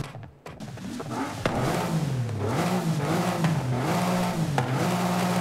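Porsche 997 911 Sport Classic in Forza Horizon 5 revving after a brief quiet start, a loud sustained engine and intake roar that rises and falls in pitch, with sharp crackles punctuating it and no talk.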